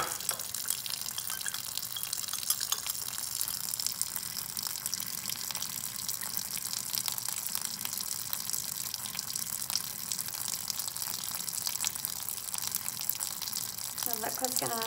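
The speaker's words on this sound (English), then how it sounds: "We're just gently going to pour" Liquid poured through filter paper into an Erlenmeyer flask during a strontium nitrate and copper sulphate precipitation experiment, a soft continuous trickle and splash, faint and steady throughout.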